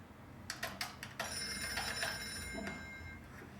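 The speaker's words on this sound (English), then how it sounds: "Yo, Banana, call Max." A telephone bell rings in a short run of bright bursts, then settles into a steady trill as a call goes through on a novelty Banana Phone; no talking.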